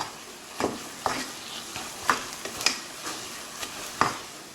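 Thick cream puff dough stirred with a wooden spoon, making a series of about eight separate thick, soft slaps and scrapes in an uneven rhythm, close by.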